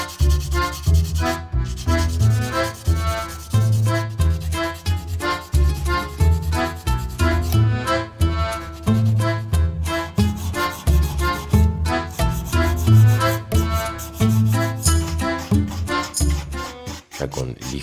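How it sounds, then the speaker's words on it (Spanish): A silver signet ring is rubbed with 600-grit sandpaper in steady back-and-forth strokes, close and fairly loud, making a rhythmic scratchy rasp with brief pauses between passes. "Ya con lija 600 hacemos una pasada finita, cuidando siempre la estética del anillo, sin esmerilar de más."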